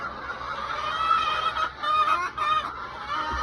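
Young chicks eat the older hens' feed with a continuous run of close, nasal chirps and honking calls.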